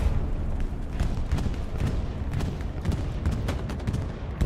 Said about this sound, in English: It's like the bombing run is coming in.